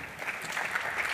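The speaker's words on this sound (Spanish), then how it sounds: "Fuerte aplauso para él" Audience applause at a blockchain conference panel in Cartagena, a steady dense wash of clapping from a crowd that holds at an even level throughout the short burst.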